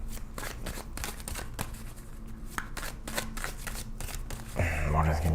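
Tarot cards being shuffled and pulled during a reading: a rapid riffle of dense papery flutters and snaps, close, with faint voice underneath and a louder thump near the end.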